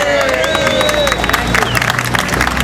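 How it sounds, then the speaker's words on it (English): Crowd applause and cheering for a council member at an outdoor lobby day rally, steady and loud through the clip with a busy babble of voices mixed in. "Let's give Councilman Barry another round of applause"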